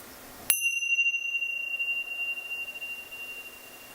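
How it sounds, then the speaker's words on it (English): A meditation bell is struck once and rings out alone, a bright sustained tone that slowly fades over several seconds into quiet room silence. "Now close your eyes and listen to the sound of my bell."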